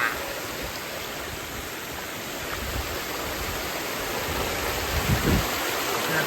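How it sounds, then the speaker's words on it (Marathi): Steady broadband rush of falling water, constant and unbroken, heard from nearby with no voices. "धबधबा बघा धबधबा"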